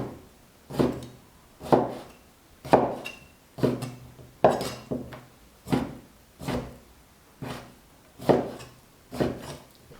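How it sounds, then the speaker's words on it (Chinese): A knife chops raw chicken breast into small pieces on a wooden cutting board, giving about a dozen steady, evenly spaced knocks close up with no talking. "然后把鸡胸肉切成小块儿"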